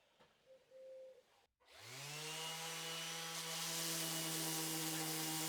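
A power sander works a patch on a handmade live-edge wooden shelf, starting with a sharp whine that settles into a loud, steady droning hum, preceded by quiet handling noises.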